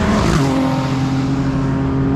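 Race car in a time attack event at full throttle around the Brands Hatch circuit, with a loud, sustained engine drone and a steady tone after a brief shift early on, close and alone.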